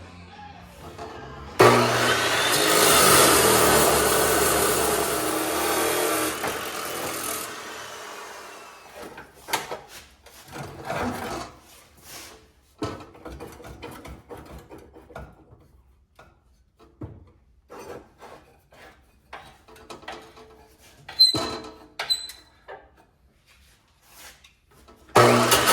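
A saw cuts loudly through a thick Ford rear axle tube during a 1946 Ford coupe rear-end narrowing job, a sustained harsh grinding burst of about five seconds, then scattered clanks and handling knocks with brief sharp squeaks.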